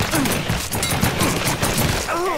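Rapid bursts of gunfire in the video game Mafia 3, a loud, dense fusillade of overlapping shots that runs nearly unbroken across the whole moment.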